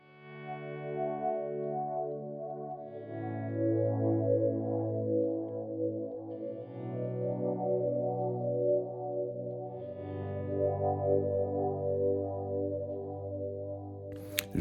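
Guitar notes swelled in through a Strymon Timeline and Strymon BlueSky chorale reverb, rising softly into sustained, shimmering chordal tones that shift pitch in slow stages and hold with gentle chorus-like movement, alone and steady.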